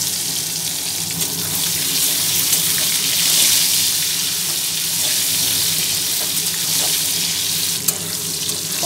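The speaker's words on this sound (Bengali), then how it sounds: "কড়াই এখানে সর্ষের তেল গরম করতে দিয়ে দিয়েছি, গরম হয়েও গেছে, পটলগুলোকে আগে ভালো করে ভেজে নেব।" Pointed gourd (potol) pieces, rubbed with salt and turmeric, frying in hot mustard oil in a kadai, giving a steady, loud, close hissing sizzle throughout with no speech.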